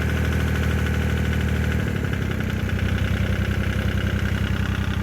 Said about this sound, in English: It's a good running tractor, y'all.